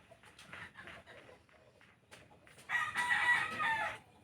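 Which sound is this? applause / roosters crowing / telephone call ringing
roosters crowing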